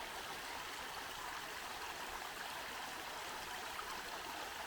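A small stream of water runs steadily into the River Derwent, making a constant, even rush and babble of flowing water on an evening walk, with no talking.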